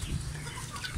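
A broody hen sitting on a clutch of eggs gives low, steady clucking, close and continuous through the whole second with a soft rustle of feathers, no voices present.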